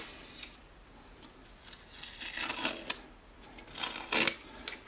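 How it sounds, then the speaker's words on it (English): Tape is peeled off a DJI Flame Wheel F550 drone frame in a few short, close ripping pulls, the louder tears coming near the end, with no talk. "remove the tape"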